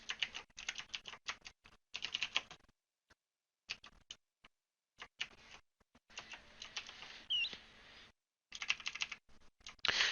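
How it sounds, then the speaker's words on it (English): Fingers type on a computer keyboard in quick bursts of close, crisp key clicks separated by short pauses. "So I'm just going to quickly type up all the options"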